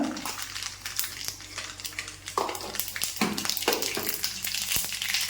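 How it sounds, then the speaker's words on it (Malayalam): A quarter teaspoon of mustard seeds crackles and pops in hot coconut oil while cooking cheera thoran, with scattered sharp pops over a steady sizzle close by. "കടുവ് പൊട്ടി"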